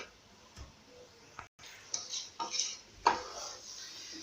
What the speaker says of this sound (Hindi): तो ये साथ साथ हम इसको हिलाते रहेंगे।